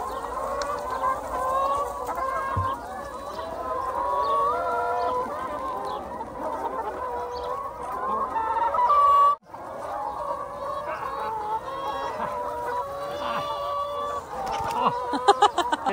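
Plump chickens in an Australian backyard coop cluck and squawk continuously and close by, with overlapping calls and occasional louder cries, a brief dropout midway, and people talking now and then.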